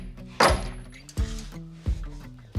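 Metal mounting bracket on a Jeep 4WD build being struck to seat it, four sharp loud thunks spaced unevenly about half a second to a second apart, close by, with no talk.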